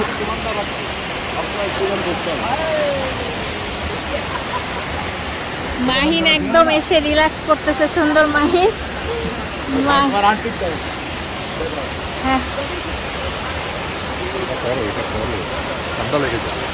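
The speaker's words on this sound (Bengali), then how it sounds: "কিভাবে পানি পড়ছে পাহাড়ের উপর থেকে" A waterfall pouring down from a hill makes a steady, broad rush of water that stays constant throughout, while people chat close by over the roar.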